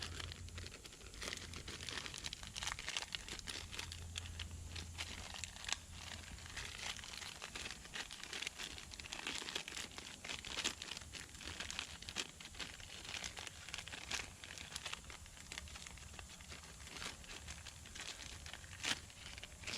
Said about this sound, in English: First time opening a plastic bag, apparently.